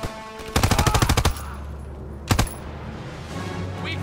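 Automatic gunfire in the World War II shooter Call of Duty WW2, a loud rapid burst of about a dozen shots followed after a pause by a shorter two- or three-round burst.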